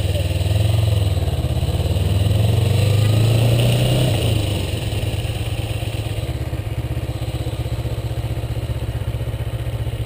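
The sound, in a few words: rattling of a Kawasaki Ninja motorcycle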